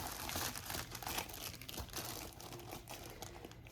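Fabric packaging crinkles and crackles close to the microphone in a continuous, soft rustle of handling, faint and without any talking, while a greenish-grey fabric haul is unwrapped.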